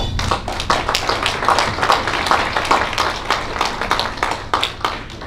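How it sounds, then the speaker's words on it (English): An audience at a 2018 high school award ceremony claps for student athletes. The applause is a dense, steady patter of many hands that continues for about five seconds. "Give them all a round of applause."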